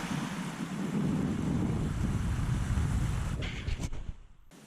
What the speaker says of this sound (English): Nice flowing creek in the hardwoods.